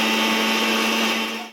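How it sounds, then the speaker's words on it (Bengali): A mixer grinder blends yogurt for raita, a steady, loud motor whine that runs briefly and then winds down. "দইগুলো ঢেলে নেওয়া হচ্ছে আর একটু সামান্য মিক্সিতে ব্লেন্ড করে নেওয়ার পালা"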